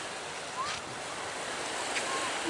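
Ocean surf rolls onto an open-ocean beach near Sechelt, British Columbia, a steady broad wash of waves with a couple of soft swells and some wind buffeting the microphone.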